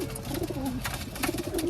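Pigeons in an enclosure coo softly in low, rolling murmurs, faint and continuous against a quiet background.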